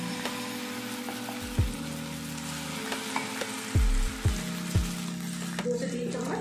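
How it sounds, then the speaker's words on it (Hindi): Poha batter is poured onto a hot, oiled griddle over low heat, setting off a steady sizzle broken by several louder hissing bursts as more batter hits the pan. "अब हम बैटर को डालेंगे तवे पर।"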